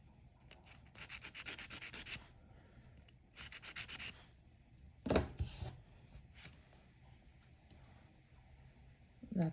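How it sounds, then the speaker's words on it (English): Nail area being wiped clean of debris during a hard gel nail job, heard as two close bursts of brisk rubbing strokes followed by a few softer scratches, with brief voice sounds in between. "I'm just wiping the area clean, free of any debris."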